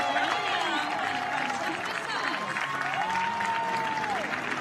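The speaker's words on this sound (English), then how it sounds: "As expected, a huge cheer." A big crowd cheers and applauds at the women's pentathlon European Championships medal ceremony in Bath as Great Britain are named champions, a steady dense roar of clapping and shouting throughout with a commentator's voice faintly underneath.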